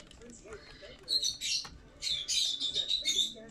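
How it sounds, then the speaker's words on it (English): In a modded Minecraft game, birds squawk and chirp in shrill bursts, loud and close, with faint talk and game noise underneath. "Naughty birds."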